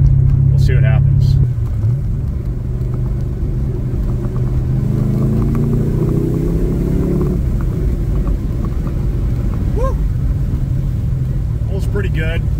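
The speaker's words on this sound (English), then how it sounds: "it goes through all the gears great, seems to drive smooth other than that clunk" A Cadillac CTS-V accelerates through its gears from inside the cabin, a deep engine rumble rising and dropping with each shift over a steady road drone, while someone talks over it.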